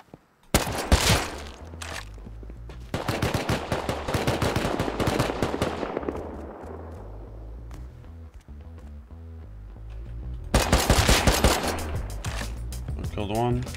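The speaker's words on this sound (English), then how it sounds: "I'm literally just shooting 10 bullets into" Automatic gunfire in the survival game Rust: a long stretch of rapid, loud shots fired in sustained bursts that fade out, then a second dense burst near the end.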